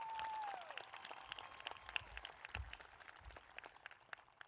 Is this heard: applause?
yes